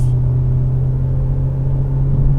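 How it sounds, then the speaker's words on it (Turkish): A BMW 420d diesel coupe pulls uphill under steady throttle, its engine giving a continuous deep droning hum with a strong low tone, loud and close from inside the cabin, with no talk. "Böyle bir yokuş yukarı gazlıyoruz şu an."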